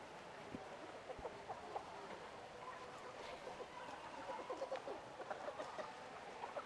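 Faint, scattered clucks from a chicken in the video game Baldur's Gate 2, a soft, irregular patter set low in a quiet ambient background.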